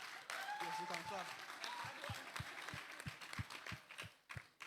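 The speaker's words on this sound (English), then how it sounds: "Yes, you can clap." An audience claps at a talk event, steady applause that thins into a few separate, near handclaps toward the end, with a voice speaking faintly underneath at the start.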